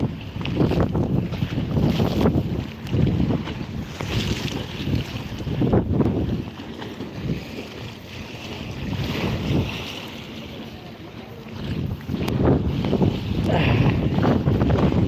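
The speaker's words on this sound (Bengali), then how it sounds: "দেখেন কি অবস্থা কীরকম পানির ঢেউ" Waves and strong wind on the Jamuna river heard from a boat, with gusty wind buffeting the microphone and water sloshing in uneven surges throughout.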